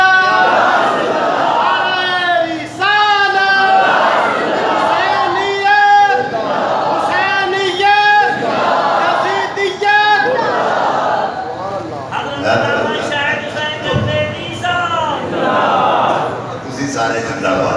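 A large crowd at a religious gathering chants slogans in loud, rhythmic call-and-response waves that repeat steadily and fill the space.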